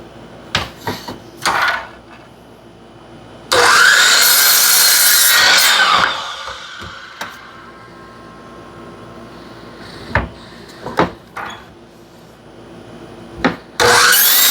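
A saw cuts small wood pieces at angles for a simple DIY woodworking build, with a loud steady two-second cutting burst between short knocks and clunks of handling lumber, and a final burst starting at the end.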